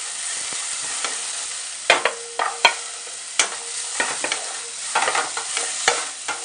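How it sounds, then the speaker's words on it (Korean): Carrot, celery, radish and cabbage stir-fry for minestrone, with a soft continuous sizzle broken by irregular sharp scrapes and clacks of a utensil against the pan. "재료들이 투명하게 색은 변하지 않게 볶아주시면 됩니다"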